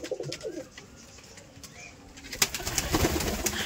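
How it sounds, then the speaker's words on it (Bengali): Domestic pigeons at a loft on a rainy day give soft, low cooing that is faint against steady background noise, with a few light rustles and a somewhat louder stretch toward the end. "এই যে কবুতর, আমার এই কবুতর"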